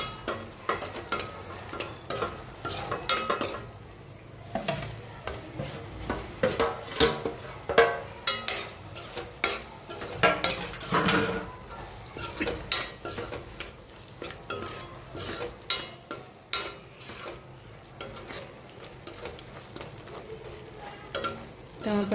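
Paneer and cheese stirred into gotalo sabzi in a pan, with a long run of close scraping and clattering spoon strokes against the pan in an uneven rhythm, over a soft sizzle.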